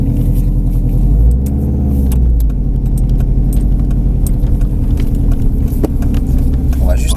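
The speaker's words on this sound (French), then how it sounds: "On va juste laisser passer la voiture qui arrive" A car approaches and drives past on a driving-course track, its engine rumble steady and fairly loud throughout, with a brief rise as it goes by.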